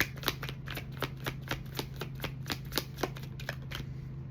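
Tarot cards shuffled and drawn by hand, a run of crisp, rapid flicks and snaps repeating about every quarter second over a low steady hum, close and moderately quiet with no talking.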